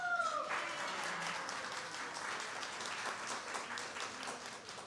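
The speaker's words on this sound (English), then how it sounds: "Please give her the big round of applause" An audience at a women's iftar reception celebrating Ramadan, hosted by New York City Mayor Eric Adams, gives a sustained round of applause, a dense, even clapping wash at moderate distance lasting the whole stretch.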